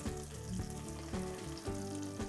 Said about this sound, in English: And then let's let it sizzle for a few seconds.